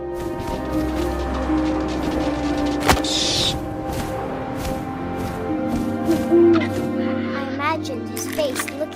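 An owl hoots in the video game What Remains of Edith Finch, a few calls over a low ambient bed with a voice narrating throughout.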